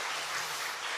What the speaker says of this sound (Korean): 우리 박수로 격려하고 축복합시다